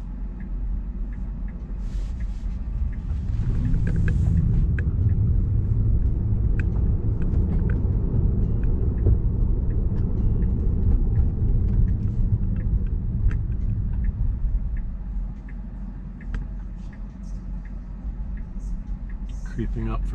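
A Tesla rolls along a local road with steady low tire and road rumble inside the cabin, swelling louder midway, then easing off, while someone talks over it.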